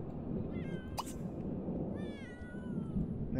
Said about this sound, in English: Another stray cat.